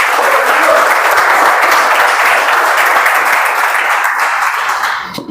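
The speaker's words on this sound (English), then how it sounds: "Let's welcome Vishak with a big round of applause" A Toastmasters meeting audience welcomes a speaker with a big round of applause, loud continuous clapping that runs evenly before thinning out and tapering off at the end.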